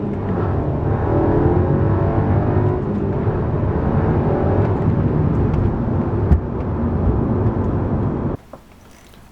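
A 2011 Audi A3 with a K&N cold air intake holds a steady rev around 3,000 RPM, its engine note droning loud and close with slight wavering before cutting off abruptly near the end.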